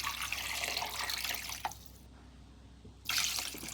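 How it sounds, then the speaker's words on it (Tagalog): Water pours steadily into a pot of hard beef bones for miso sinigang, a close, rushing splash that breaks off briefly and then resumes. "Sabuan natin ng tubig."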